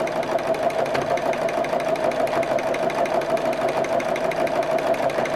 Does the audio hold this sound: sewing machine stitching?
yes